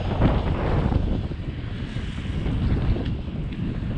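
Strong gusting wind buffets the microphone, a loud, rough low roar that swells and eases without pause.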